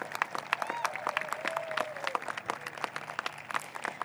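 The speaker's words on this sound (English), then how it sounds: "Please give our bilingual Bulldogs a round of applause." An audience at a middle school promotion ceremony claps for bilingual students, dense steady applause throughout with a faint tonal whistle-like sweep in the middle.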